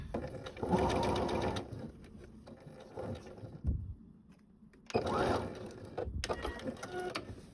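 Sewing machine stitching a seam on a cape, heard close and moderately quiet in two bursts of rapid mechanical whirring separated by a pause with light handling noises.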